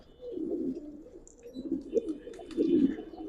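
Low, throaty coos of Giribaz pigeons roll in repeated waves, fairly close, with a soft murmur of background noise and no talk.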